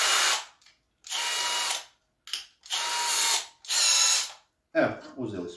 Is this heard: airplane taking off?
no